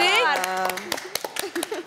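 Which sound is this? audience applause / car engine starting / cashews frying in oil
audience applause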